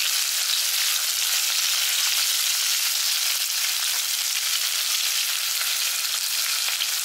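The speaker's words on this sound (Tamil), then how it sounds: "கொஞ்சோண்டு கருவேப்பிலை இதை நல்லா வதக்கிடலாம்." Shallots, green chilli and curry leaves sauté in a pan for a kurma, producing a bright, continuous hiss of frying that stays even throughout without any voices.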